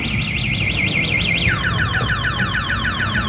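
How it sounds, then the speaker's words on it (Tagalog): The automatic anti-theft alarm on an NXT Dynamax e-bike blares nearby, first a rapid warbling siren, then switching to a faster chirping sweep pattern, loud and steady throughout. "Mag-automatic po na, ayan, naka-alarm na po yan."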